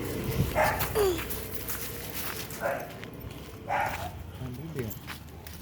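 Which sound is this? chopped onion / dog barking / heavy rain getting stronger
dog barking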